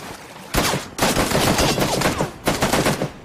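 Automatic gunfire from PUBG (Battlegrounds) fills the scene in close, loud bursts, a short burst followed by a longer sustained stream of rapid shots and another burst near the end.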